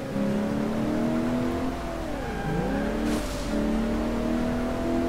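A car drifting back and forth in the driving game Alarm für Cobra 11, its engine droning loud and steady, pitch dipping and climbing as it swings, with a brief tire hiss midway.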